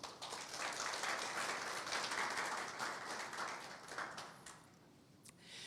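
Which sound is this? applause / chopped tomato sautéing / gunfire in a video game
applause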